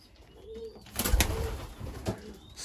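Young racing pigeons coo softly at close range, a few low throaty calls with some wing or movement rustles around them.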